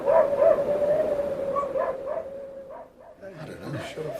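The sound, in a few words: huskies barking and howling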